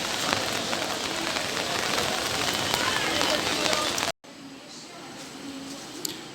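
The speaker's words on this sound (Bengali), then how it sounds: "এখানে প্রচুর বৃষ্টি হচ্ছে" Heavy rain pours steadily near the rail station, a dense continuous hiss that cuts out abruptly and then continues more softly for the last seconds.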